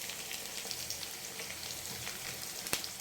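Potatoes and onions fry together in hot oil for a fish curry, giving a quiet, steady sizzle with faint crackles and one sharp tap near the end, and no talk.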